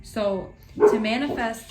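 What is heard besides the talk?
dog barking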